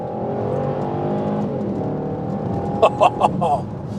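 Bentley Continental GTC V8 engine droning steadily from inside the car, then barking out three or four sharp revs near the end; a voice speaks briefly during the steady part.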